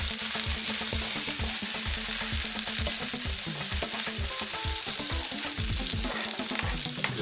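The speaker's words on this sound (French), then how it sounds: "On fait revenir les oignons," Young onions fry in a pan for a tomato sauce, giving a continuous loud sizzle with busy crackling and occasional scraping stirs, close and steady throughout, no one speaking.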